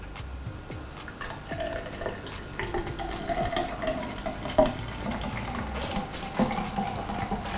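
Jamaican Blue Mountain coffee with milk and honey pours into a glass for a frappuccino, a steady liquid trickle and splash with faint clinks running throughout.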